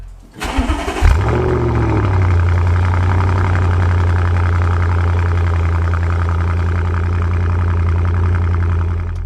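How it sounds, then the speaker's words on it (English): A car engine cranks and fires up from a cold start, revs briefly, then settles into a loud, steady rumbling idle close by. "And I've done like a cold start."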